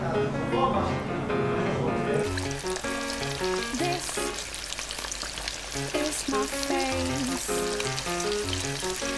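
Egg-battered Korean jeon pancakes frying in a pan, a steady close crackling sizzle that swells as batter hits the hot oil, with background music playing underneath.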